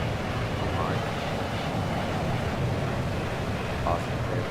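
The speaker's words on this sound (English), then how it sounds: "That is a loud jet." Loud, steady jet engine roar from an aircraft in the flight game VTOL VR, a broad continuous rumble and hiss that holds level throughout with no pauses.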